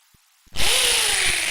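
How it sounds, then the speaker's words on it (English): A power drill set to hammer action starts up after a couple of faint clicks and runs loud and steady, giving a harsh continuous rattling whine close by. "That's what they call a hammer action."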